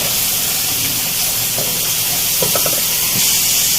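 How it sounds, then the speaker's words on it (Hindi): Spices with turmeric and ground coriander fry in a pan for masala bhindi, making a loud, steady hiss with a few light clicks and stirring touches in the middle. "सब चीज़ों को साथ में मैं यहाँ बहुत अच्छी तरह से भूनूंगी।"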